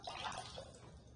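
A small pump in a wine bottle water fountain sends a steady stream of water splashing into its reservoir, a faint, continuous trickle.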